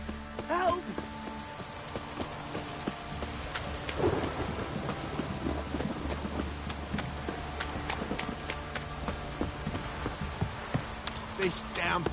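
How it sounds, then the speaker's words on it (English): Heavy rain in the video game The Witcher 3: Wild Hunt pours down in a constant dense hiss, with scattered sharp drips and thumps throughout and a low rumble underneath. "This downpour's a bastard,"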